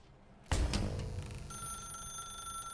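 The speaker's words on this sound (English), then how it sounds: "Now pick up the phone" A telephone in The Stanley Parable rings with a sharp electronic bell tone that starts abruptly and sustains steadily, fairly loud and alone.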